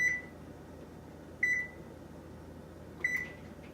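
Oven control panel beeping three times while the oven is set to bake at 450, short bright electronic tones spaced about a second and a half apart, close and clear against a quiet kitchen.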